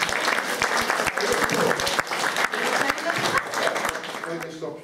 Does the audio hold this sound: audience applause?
yes